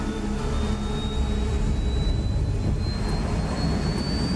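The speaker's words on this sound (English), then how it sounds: "All this plane could do was take off, accelerate, and fly up." A jet plane engine accelerates in the video game Ace Combat 7, a loud, steady roar with a thin whine rising slowly in pitch throughout, heard alone with no talk.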